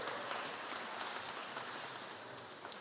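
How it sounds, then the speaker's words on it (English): Audience claps for a singer at a Tonga relief charity dinner, a continuous patter of hands across the room, moderately distant and even, with no talk over it. "Give her another clap."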